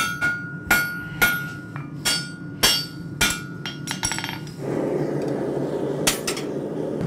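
A blacksmith hammers a hot iron horseshoe on an anvil in sharp, ringing strikes at a steady rhythm, followed by a softer rushing roar with a few more clinks.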